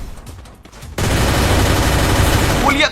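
An M60 machine gun fires in a video game: after a quieter opening, loud continuous bursts of rapid gunfire erupt and roar without pause to the end, dense and close.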